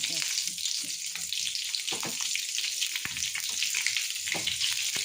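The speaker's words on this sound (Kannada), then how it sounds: "ಎಣ್ಣೆ ಕಾದಾಗ ಎಲ್ಲ ಮೆಣಸಿನ್ಕಾಯಿ ಹಾಕೋತೀನಿ ನೋಡ್ರಿ" Thick green chillies frying in hot oil for a chilli pickle dish, a dense, steady sizzle close up with occasional crackles and stirring scrapes throughout.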